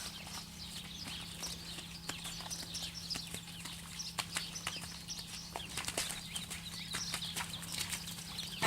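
Faint, irregular hoof steps and shuffles as a barrel horse moves about on the ground during groundwork training, over a steady low background hum.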